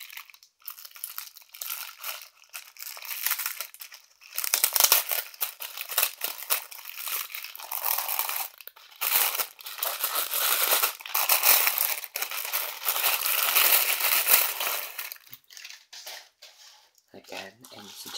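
Tissue paper and bubble wrap being unwrapped from glass items, giving continuous close crinkling and crunching that swells and fades in bursts over the whole stretch, with brief lulls.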